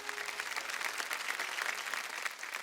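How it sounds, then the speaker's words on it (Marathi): A theatre audience on a Marathi TV music-and-dance show gives loud, sustained applause after a stage performance, a dense, even clatter of many hands clapping without a break. "जोरदार टाळ्या"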